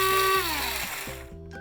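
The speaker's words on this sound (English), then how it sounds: "When they cool I put them into my not so trusty old spice grinder." An old electric spice grinder whirs through roasted spices to make curry powder, a loud steady motor whine that winds down and sputters in short bursts near the end.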